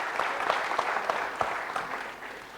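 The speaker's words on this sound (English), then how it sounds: "Let's have a big round of applause, everyone." Audience at a DevOps training session gives a round of applause, a steady crowd clapping with a few sharper individual claps standing out, fading slightly at the end, no talking.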